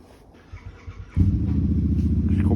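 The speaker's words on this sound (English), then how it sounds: "You hear them bikes?" Motorbikes pass nearby: after a quiet start, a loud, deep engine rumble cuts in abruptly and holds steady to the end, with no talk.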